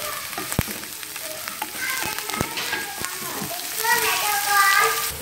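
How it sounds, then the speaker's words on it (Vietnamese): Loud, crackling sizzle of minced lemongrass and aromatics stir-frying in a hot pan, with clinks of a utensil stirring and faint voices in the background. "mình sẽ xào thơm lên rồi mình xào với cà chua nhé"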